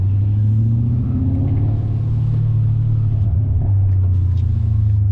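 A 1998 BMW 540i with a six-speed manual gearbox, its engine droning in a steady low hum from inside the cabin while driving, the pitch rising and falling slightly with the throttle.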